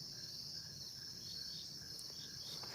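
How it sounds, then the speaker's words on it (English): Crickets chirp steadily in the background at night, a continuous high-pitched trilling with a faint pulsing rhythm, distant and soft over a low hum, with no talking. "Love the crickets down there."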